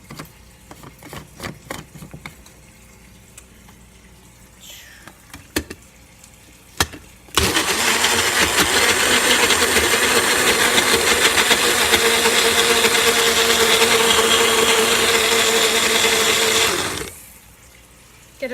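Eggs being whisked until frothy with a small electric blender in a capped container: soft handling clicks first, then a loud steady motor whir for about ten seconds that cuts off abruptly.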